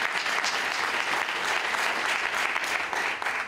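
Audience applause at a community organization's tenth anniversary event, a dense, steady wash of many hands clapping close and loud throughout, with no talk over it.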